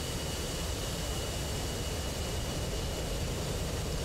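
F-15C jet engine in the DCS flight simulator, a steady broadband roar holding at an even, fairly quiet level for the whole stretch, with no talk over it.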